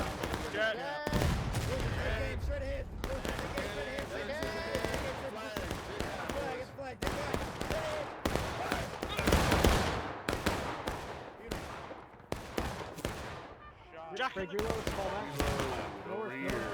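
Musket volleys crackle and boom across a Civil War battlefield in War of Rights, with many scattered shots near and far, some single cracks and some rolling volleys, under voices talking throughout.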